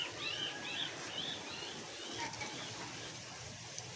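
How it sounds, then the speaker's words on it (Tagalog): A bird at its nest gives soft calls and coos at close range over a steady outdoor hiss, with a faint flutter. "Ay, may ibon nandun."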